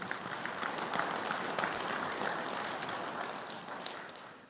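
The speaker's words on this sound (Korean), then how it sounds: "다시 한번 찬탄의 박수입니다" A congregation at a Korean Buddhist Sunday service gives soft, dense applause, steady and fairly distant, slowly fading over a few seconds.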